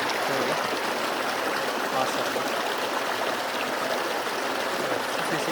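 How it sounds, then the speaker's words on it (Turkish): A small village creek spills like a little waterfall, giving a steady, close, broadband rush of flowing water that holds evenly throughout with no other sounds. "Küçük bir çağlayan gibi yani."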